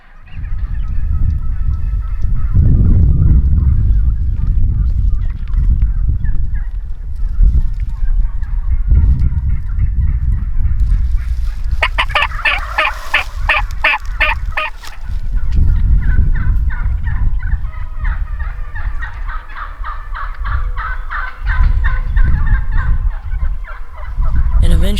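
Wild Merriam's turkey gobblers in Nebraska gobble in bursts, with a dense rattling gobble mid-clip and more calls following over steady low outdoor rumble; some faint talk.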